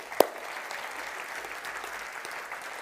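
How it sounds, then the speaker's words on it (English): Applause from a keynote audience in London, a steady wash of many hands clapping at moderate distance, with one sharper clap near the start and no speech over it. "Let's clap it up for them."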